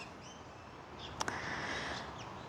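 Indian myna birds call faintly in the distance, with a few scattered chirps and whistles and a brief pair of sharp notes over a quiet background hiss.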